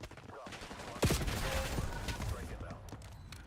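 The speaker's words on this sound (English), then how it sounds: "Hostile airstrike incoming." A hostile airstrike lands in a ranked Warzone console match, giving one sharp close blast followed by a rolling rumble of crackling, gunfire-like bursts, with a faint voice in the mix.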